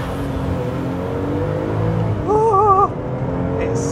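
Porsche 911 GT2 RS accelerating on a damp track, a loud steady engine roar with a brief rising whine near the end, close and continuous.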